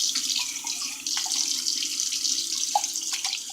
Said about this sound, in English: I'm just going to put a little water in here.